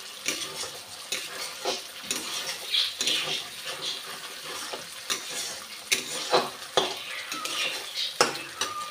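Spice paste with chili and turmeric powder fries in a pan for a pabda fish dish, a close sizzle punctuated by rhythmic spatula scrapes and taps against the cookware.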